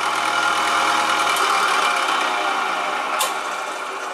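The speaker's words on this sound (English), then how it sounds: "one thing I hated about this older model was the cover tends to rattle" An older Harbor Freight drill press runs steadily with a loose cover rattling, a continuous close mechanical hum and buzz with a brief sharper rattle near the end, no voices.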